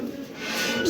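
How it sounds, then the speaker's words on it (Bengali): Caged Lahore Sirazi pigeons give a soft, low cooing, a steady murmur lasting about a second with a slight swell toward the end, with no voices over it. "দেখেন এই দেখেন কবুতর"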